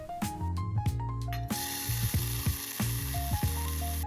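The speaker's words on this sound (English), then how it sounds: "let's start off by sauteing some sweet corn" Sweet corn sautéing in a pan, a steady close sizzle with the clatter and scrape of stirring at intervals, plus scattered small clinks.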